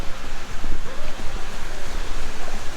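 Roadside waterfall beside a road near New River Gorge, a steady broadband rush of falling water close by, continuous and fairly loud with a faint low rumble beneath and light wind buffeting.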